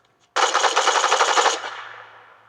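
An assault rifle with a Darth Vader wrap in Fortnite fires a rapid burst of about a second, loud and close. The shots ring out and fade briefly afterward, with no voices.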